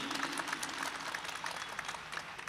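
A crowd applauding at a mushaira poetry gathering, dense steady clapping from many hands that fills the room and holds evenly throughout, with no speech over it.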